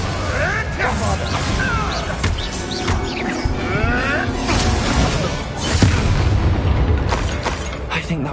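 Spell combat in Hogwarts Legacy, with the Bombarda blasting spell going off among booming crashes and whacks in a dense, continuous battle mix while voices shout over the fighting.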